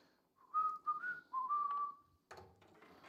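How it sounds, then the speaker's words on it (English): A person whistles a few short, bright notes up close, followed by a brief rustling noise. "Whistling might not be the best thing right now."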